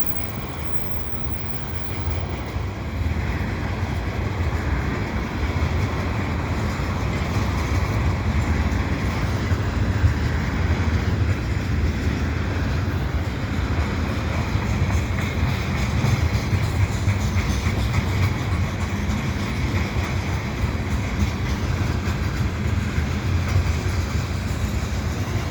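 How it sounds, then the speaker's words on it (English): An eastbound CP Rail oil train hauled by vintage diesel locomotives rumbles past steadily in winter at Dorval, giving a continuous low roar with faint wheel clatter and no clear breaks. "it's very strange in this day and age to still see that action red CP rail locomotive with the Pac-Man."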